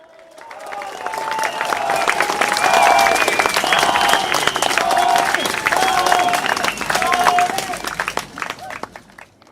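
A large crowd at a political rally held at a school claps and cheers loudly, swelling into sustained applause with whoops and shouts mixed in before easing off near the end.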